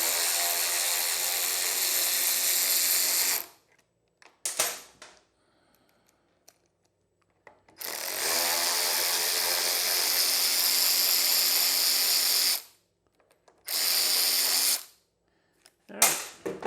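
A power drill whirs in several sustained bursts of a few seconds each, backing screws out of a cover, with quiet gaps and short clicks between runs, close and fairly loud.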